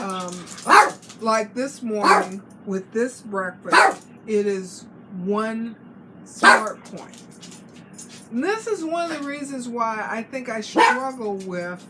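A pet dog barks repeatedly close by, sharp loud woofs at irregular intervals mixed with whiny yips, while a person keeps talking in a kitchen.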